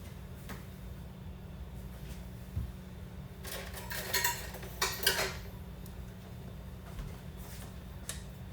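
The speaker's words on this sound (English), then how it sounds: "I'm just going to scoop it out like cup by cup into each one of my baking pans." Mahogany cake batter is scooped cup by cup into baking pans in a home kitchen. Faint utensil clinks and scrapes against the pans come in a short cluster midway, over a quiet, steady room hum.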